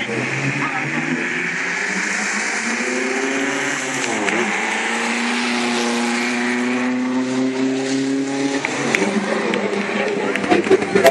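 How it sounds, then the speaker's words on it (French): A vintage Bugatti race car's engine revs and accelerates, its harmonic drone climbing in pitch, dropping at a gear change, then climbing again, loud and close with rasping mechanical texture at a classic car event at Le Touquet. "Et voilà, c'est parti."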